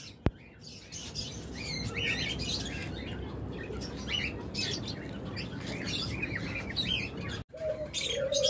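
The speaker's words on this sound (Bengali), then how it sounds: "পরে এই লাভবার জোড়াগুলো হাই মিউটেশন লাভবার" Lovebirds kept in a breeding setup chirp and tweet continuously, with many overlapping shrill calls close by and a brief break near the end before the chatter resumes.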